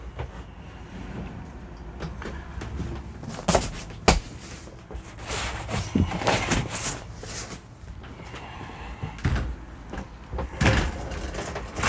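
Interior door of a 2023 motorhome on an AL-KO chassis opening to the bathroom, giving a few sharp knocks and sliding clatters amid rattling handling noises, close and moderately loud with no talk.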